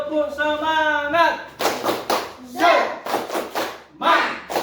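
A classroom of students claps out a quick, energetic chanting rhythm, loud bursts of sharp claps mixed with children's voices shouting together, nearby.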